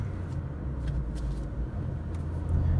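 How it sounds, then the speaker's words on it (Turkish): A Fiat Egea Urban Plus car runs at about 3000 rpm, cruising near 50 km/h. A steady, low engine and road rumble drones on without a break and stays fairly loud throughout. "Şu an araç 3000 devirde 50 kilometre."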